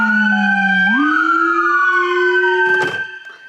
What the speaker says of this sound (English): Activate the howler with the horn.